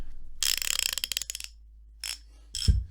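A Harbor Freight 1/2 inch quick release ratchet clicks close up in a fast, even run of ticks that slows and stops, then two short bursts of ratcheting follow, the last with a dull thump.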